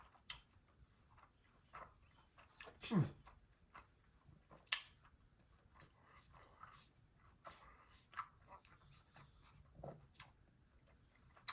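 Someone chewing a Taco Bell steak cheesy dipping burrito in quiet, intermittent bites with soft smacking and crunching sounds, recorded close.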